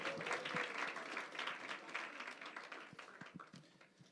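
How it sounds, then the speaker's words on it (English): An audience at a live show applauds, a dense close wash of clapping that gradually thins out over a few seconds, with no one talking. "So a round of applause for Yaakov Gutterson, Dr. Yaakov Gutterson."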